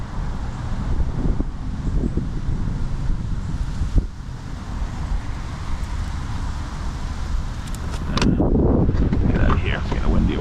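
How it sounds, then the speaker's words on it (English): Wind gusting across open water during late-fall kayak fishing in Maryland, a steady broad rush with low buffeting and a stronger surge near the end; a voice briefly talks partway through. "It's getting windy over here."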